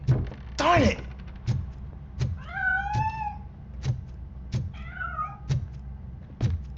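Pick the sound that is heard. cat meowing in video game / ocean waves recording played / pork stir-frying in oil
cat meowing in video game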